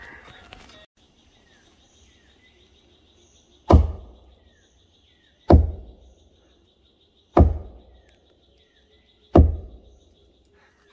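Four loud, hollow knocks strike a Xuan Xuan tree trunk in a forest, evenly spaced about two seconds apart, each followed by a short resonant decay, while faint birdsong and insects sound in the background.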